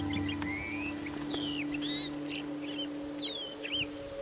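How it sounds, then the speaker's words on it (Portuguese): A flock of chupim-do-brejo birds in the scrubland of Serra da Canastra National Park, Brazil, gives scattered whistled chirps and rising and falling calls at moderate distance over a steady low hum. "Um bando de chupins do brejo fica de arbusto em arbusto à procura de frutos."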